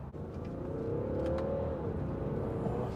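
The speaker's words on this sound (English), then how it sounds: "This car seriously pulls." A stock BMW 640d F13 coupe accelerates hard, its diesel engine note rising smoothly in pitch and then easing back, heard from inside the car as a strong, steady pull with no talking.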